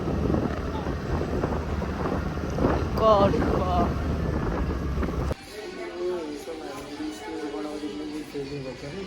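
Wind buffets the microphone on a scooter ride toward Beni Bazaar and Mustang, a steady roaring rush that drops in level partway through, with faint voices in the background.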